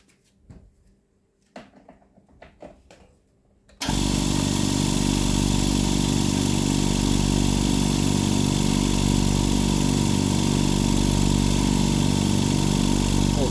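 A small air compressor with a faulty non-return valve starts abruptly after a quiet stretch of clicks and handling, then runs loud and steady with a dense mechanical drone and pulsing motor throb.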